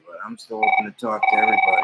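A telephone bell rings for an incoming call in bursts of rapid repeated trills, close and loud, overlapping a man's speech at the start.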